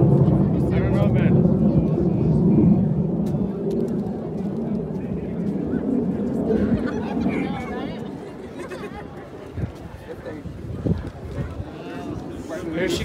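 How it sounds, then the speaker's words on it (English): A Cessna 172 airplane engine drones steadily at a distance, a low broad rumble beneath continuous nearby chatter and voices. "that's the 172 plane"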